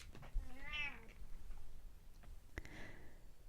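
A pet cat gives one clear, close meow near the start, followed by a few faint clicks and soft room noise.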